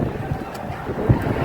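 Strong wind at an outdoor football match buffets the microphone in a steady, loud, low rumbling roar, with no voices over it.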